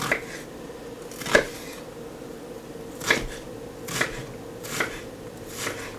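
A knife chops through an onion on a board in about half a dozen distinct, evenly spaced knocks, crisp and close with quiet pauses between cuts.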